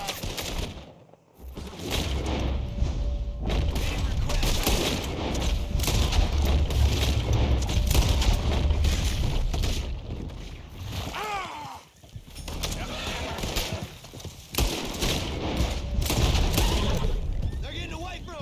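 Gunfire in Red Dead Redemption 2, a steady loud fusillade of shots mixed with hoofbeats and game sounds, sustained over most of the stretch with a few brief drops.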